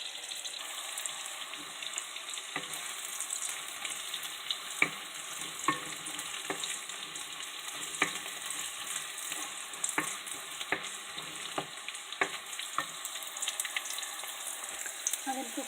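Asparagus cooks in a pan with a steady, moderate sizzle and a high hiss, broken by regular light taps and scrapes of stirring, with no talking.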